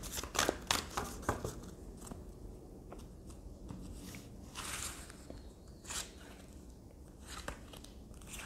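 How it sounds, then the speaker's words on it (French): Tarot cards are shuffled and handled up close, with crisp riffling, flicks and light slaps scattered over a quiet background and no talking. "Alors on va prendre d'autres cartes."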